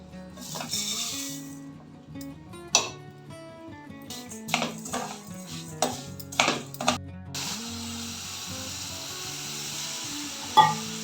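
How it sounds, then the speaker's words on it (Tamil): Steady sizzling of cashews frying in a pan, with scraping and stirring clatter now and then over faint background music. "முந்திரியெல்லாம் ஃப்ரை பண்ணி எடுத்துக்கலாம்"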